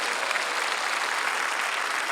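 A church worship gathering breaks into dense, steady applause, loud and continuous, with many hands clapping together in a large hall.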